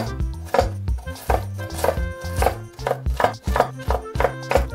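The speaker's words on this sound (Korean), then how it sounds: "당근은 40g을 잘게 다져줍니다" Rapid, steady knife chops finely mincing carrots on a cutting board, a quick run of sharp taps close up with no talking.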